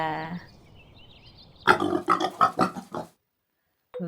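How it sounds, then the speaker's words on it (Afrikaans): A short series of about five grunting pig oinks, close and fairly loud, following a brief tonal sound and a quiet pause, ending in silence. "Daar is 3 varke."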